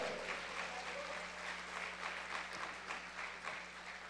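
Faint, distant applause from a congregation at an evangelical church service, a soft continuous patter of clapping over a steady electrical hum.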